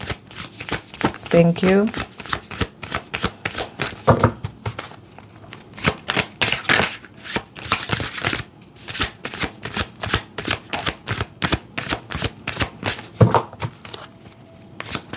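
Tarot cards are shuffled repeatedly during a reading, with quick riffling and snapping bursts in clusters across the whole span, close and crisp, while a voice briefly speaks.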